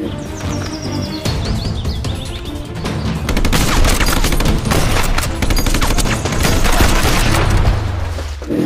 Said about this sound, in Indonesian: Yang ini mainan tembak-tembakan, teman-teman.